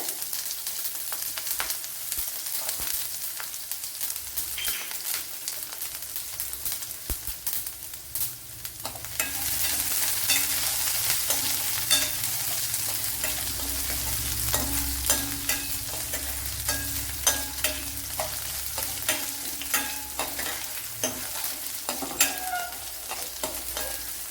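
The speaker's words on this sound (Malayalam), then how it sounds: "ഉള്ളി അരിഞ്ഞത് ഇട്ട് കൊടുക്കുക." Chopped onion goes into hot oil in a Kerala-style gooseberry dish and is stirred as it fries. A dense, steady sizzle continues under frequent spatula scrapes and clinks, and the frying swells louder partway through.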